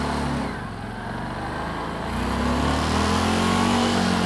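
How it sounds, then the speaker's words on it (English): A motorcycle engine runs and revs, dipping briefly as the clutch is pulled in and the gear is shifted up, then rising again to a louder, steadier drone; no voices. "Pull in the clutch, pull it up, let the clutch out."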